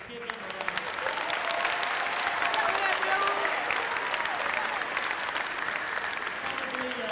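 Sustained, dense applause from a large audience of around a thousand people in a school room at a Veteran's Day program, cheering student speakers; steady and loud throughout with faint voices mixed in.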